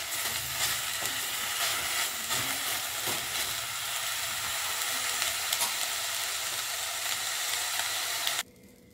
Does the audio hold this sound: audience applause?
no